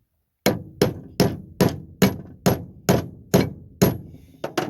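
Hammer tapping new bearing flanges into a Sunflower disc harrow: about a dozen sharp metallic strikes in steady rhythm, close and clear, with a slightly quicker pair at the end.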